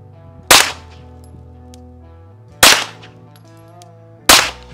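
Three sharp, loud gunshots spaced a couple of seconds apart, fired at a 10-yard target on a shooting range from a handgun fitted with an AMG Lock, Stock and Barrel kit, each crack ringing briefly and fading into quiet.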